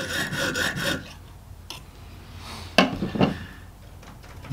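A knife blade is drawn across a Lansky sharpening stone with oil in a quick run of rasping strokes, then a pause and a few more faint scrapes and knocks, close and fairly quiet.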